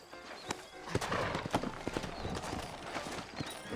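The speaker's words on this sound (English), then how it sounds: "you ain't gonna find sturdier horses than these in all of New Austin" Horses' hooves clip-clop at a steady walk on a dirt street in Red Dead Redemption, with a faint whinny and a quiet voice in the background.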